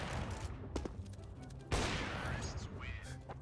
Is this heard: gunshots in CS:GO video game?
yes